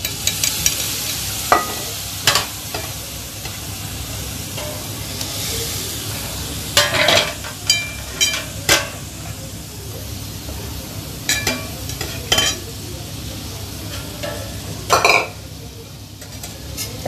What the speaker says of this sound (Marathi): आता त्यात आपण प्रॉन्स टाकूया जे आपण मॅरिनेशन केले होते.